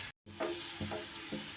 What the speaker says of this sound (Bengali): এই রসুনটাকেও সুন্দর করে লাল লাল করে ভেজে নিতে হবে।